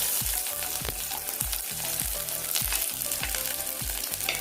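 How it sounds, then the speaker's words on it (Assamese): Sugar sizzles loudly in hot oil in a pan while cooking chilli chicken, with a steady frying hiss and a regular series of low thuds, likely from stirring, repeating about every half second. "তেল গৰম হ'লত অকণমান চেনি দিছোঁ দি দিছোঁ"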